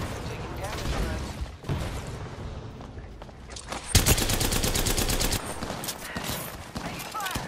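Gunfire rattles through an Apex Legends match in repeated bursts of rapid automatic shots, loud and close, with a heavier volley partway through and short gaps between bursts, mixed with other game sounds.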